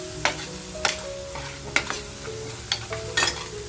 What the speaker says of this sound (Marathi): छान अगदी आपल्याला परतवून घ्यायचंय.